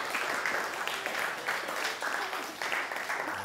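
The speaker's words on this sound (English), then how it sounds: "Let's clap for her." A classroom group in Ghana claps for a student, a moderate, continuous patter of many hands that keeps going at a fairly even level.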